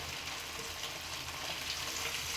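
Fish pieces fry in hot oil with a steady, soft, even sizzle that carries through without pause.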